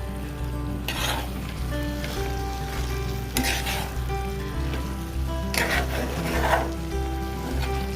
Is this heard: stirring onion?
yes